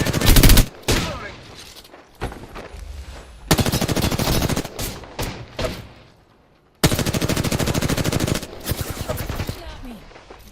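Loud bursts of automatic gunfire from a story-mode squad shooter video game come in rapid volleys separated by short pauses, with a long sustained burst near the end.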